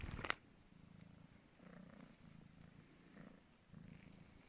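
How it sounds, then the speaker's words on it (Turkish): A cat purrs close by in soft, rhythmic pulses, quiet and low, after a sharp brief noise at the start. "bu kedilerin bu hırlayarak hırlama sesi"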